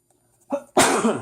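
A single sharp sneeze, close and loud, preceded by a short inhaling catch.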